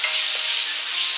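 Sliced onions frying in a pan for tomato upma, a steady close-up sizzle of hot oil that holds evenly throughout, with no talking.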